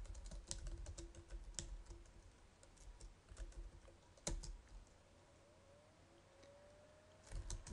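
Commands being typed on a computer keyboard in a quiet room, with irregular bursts of soft key clicks and a few sharper keystrokes, close and fairly faint, with no voices.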